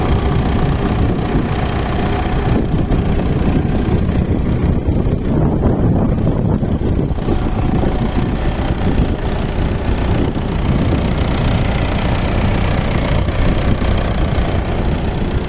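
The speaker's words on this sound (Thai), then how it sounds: "คุณลูกค้าลองฟังเสียงเครื่องนะครับ" A 2011 Mitsubishi Pajero Sport engine idles with a steady, loud, close rumble under the open hood, holding an even note throughout.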